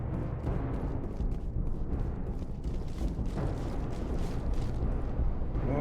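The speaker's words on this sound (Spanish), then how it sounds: "Granadas." Grenades detonate in a Mass Effect firefight, heavy rumbling blasts and bursts piling up over sustained loud combat noise, dense and continuous for several seconds without speech.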